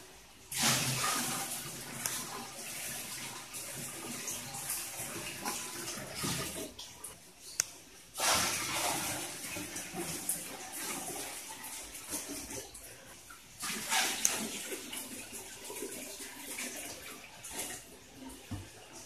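Water is poured from a bucket into a tank in several separate pours, each a loud gushing splash that tapers off, with quieter gaps between the pours and no talking.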